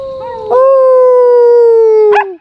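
On an island in Siargao, a dog lets out one long, steady howl, loud and close, sustained for about two seconds and ending in a brief yelp.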